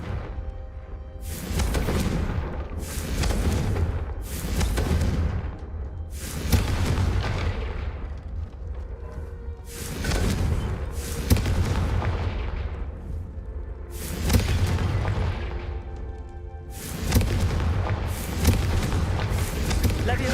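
Confringo explosive spell blasts in the Hogwarts Legacy video game, loud booming bursts repeating roughly every two to three seconds with a rumbling tail, with someone talking between them.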